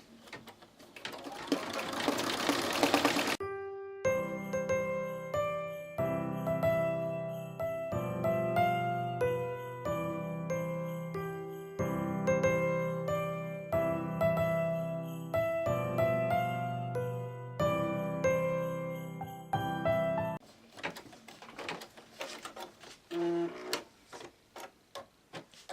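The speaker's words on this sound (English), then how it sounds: "So if you're stitching on a lot of cardstock, do expect to change the needles more often." An embroidery machine stitches through cardstock with a steady, fast mechanical rattle and rhythmic needle clatter that runs alone for most of the stretch, then gives way to quieter handling noises.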